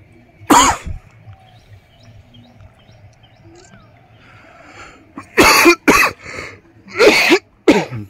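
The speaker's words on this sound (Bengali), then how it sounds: "কাশিরও সালা টাইম হলো।" A person outdoors beside the Sundarbans forest gives a loud, close cough, then a cluster of four harsh coughs after a pause, with faint bird chirps in the quiet gaps.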